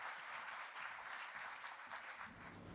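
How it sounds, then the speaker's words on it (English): An audience applauds children from Thomas Tallis School as they come on to perform, a steady, even wash of clapping that stays soft and distant for its whole length. "So please give them a big clap."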